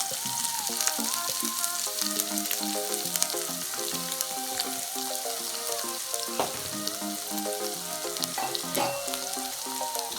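Garlic, green chilies and onions sautéing in hot oil, a steady close sizzle under background music.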